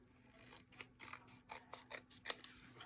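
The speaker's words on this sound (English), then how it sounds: "Now if there is any overhang, just get your scissors" Scissors snip through overhanging patterned scrapbook paper on a card layout, a quiet run of short crisp cuts and rasping blade strokes in an irregular rhythm, close by with no talking.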